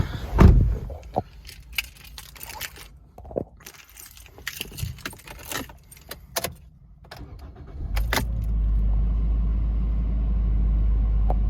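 A 2016 Toyota Corolla Ascent sedan starts after keys jangle and a door thumps shut, then the engine catches and settles into a steady, low idle rumble close to the car.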